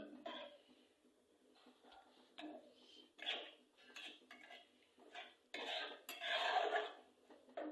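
A spoon stirs and scrapes spiced masala gravy around a cooking pan for a Gujarati bajra rotla dish, giving intermittent clinks and scrapes with short pauses, close and fairly quiet, with no talking.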